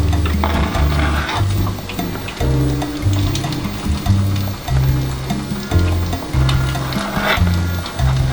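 Carrots and onion frying in a pan in a boat's galley, a steady close sizzle with bursts of stirring and scraping, heard alone without talk.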